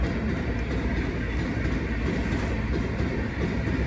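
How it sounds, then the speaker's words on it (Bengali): An express train rushes past nearby with a loud, steady rumble and rattling wheels, continuous and unbroken throughout. "দেখতে পাচ্ছ ট্রেন যাচ্ছে"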